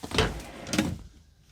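Two quick thuds of drawers in an Alliance RV Delta 292RL travel trailer being pushed or pulled shut, close and moderately loud, a short pause between them, in a quiet interior.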